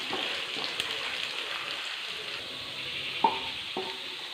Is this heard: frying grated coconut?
yes